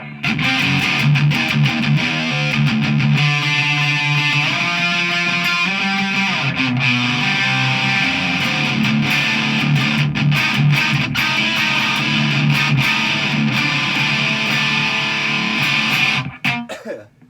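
High-gain electric guitar through an amp pushed stupidly high with the reverb switched off, a loud unbroken stretch of saturated, distorted chords and riffs that cuts off abruptly at the end, no voices.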